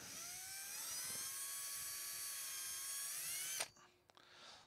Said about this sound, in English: I'm going to take my drill with a 3mm bit in it and go through it, the bottom here